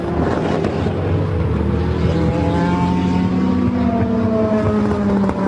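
GT race cars at Paul Ricard roar past in a loud, sustained blast of engine noise, several cars side by side with rising and falling pitch as they accelerate down the straight, alone without talk.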